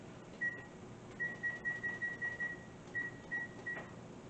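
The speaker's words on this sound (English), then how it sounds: "we preheat the oven to 325 degrees" Faint, high-pitched electronic beeps from a kitchen oven being set to preheat to 325 degrees, several short tones in quick runs against quiet room noise.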